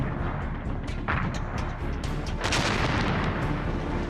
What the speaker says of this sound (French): L'artillerie russe les bombarde jour et nuit.